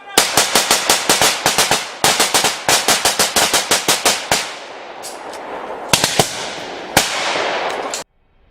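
Loud, rapid bursts of automatic gunfire in a dramatized battle between American soldiers and an ape-like creature on a mountain in Vietnam: dense volleys, a rumbling lull, then a few sharp single shots before an abrupt stop.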